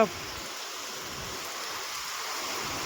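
Heavy rain falling outdoors, a steady, dense broadband wash of droplets that holds at an even level throughout with no talk.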